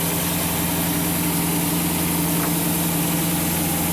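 A V8 engine idling in a 1987 Sea Ray boat, fitted with a brand new carburetor, giving a steady, loud, even rumble with no other sounds and no talking.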